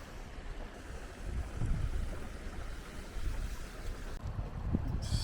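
A flooded rural stream in France rushing past, a broad continuous roar of water with gusts of wind buffeting the microphone.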